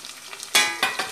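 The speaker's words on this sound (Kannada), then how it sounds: "ಟೊಮೆಟೊ ಪಾಡ್ದು ಫ್ರೈ ಮಾಡ್ತೀವಿ ನಮ್ಮ" Tomatoes frying in a pan, giving a soft crackle that swells into two louder bursts of sizzling, with stirring noises between them.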